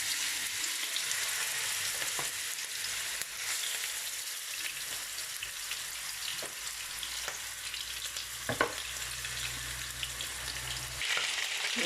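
Meatballs frying in hot oil give a steady, close, loud sizzle with crackles and small pops that runs unbroken for the whole stretch, with no voices.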